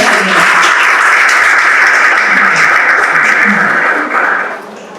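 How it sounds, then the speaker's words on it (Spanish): An audience at a parenting talk on family environment gives a speaker a welcome applause, a loud dense wash of many hands clapping steadily for about four seconds before quickly fading out. "le damos un aplauso de bienvenida"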